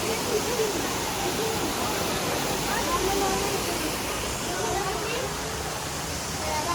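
Düden waterfall in Antalya roaring as a steady, close broadband rush of falling water that stays even and loud throughout, with no voices on top.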